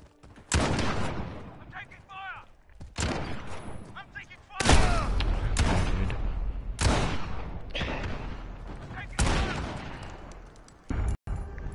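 Shotgun blasts in the Rainbow Six video game, a series of loud, booming shots spaced a second or two apart, each with a long echoing tail, mixed with other gunfire and brief talk.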